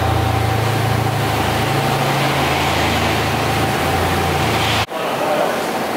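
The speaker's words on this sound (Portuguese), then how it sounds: "Jetta no dinamômetro. E aí vai ser feito o acerto e vocês vão acompanhar comigo." A Volkswagen Jetta engine tuned to over 400 horsepower runs on a dynamometer, a loud steady low hum with broad mechanical noise that cuts off briefly near the end before resuming.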